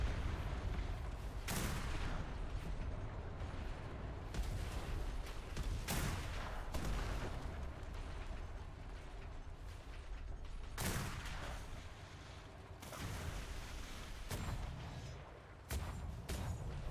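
Ship cannons firing in a naval video game, heavy booming shots scattered irregularly across the clip over a steady rumbling background, with no talk.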